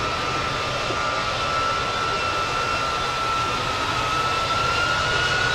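Airplane jet engines at an airport give a steady, loud roar with a thin whine running through it, constant and unbroken and heard without voices.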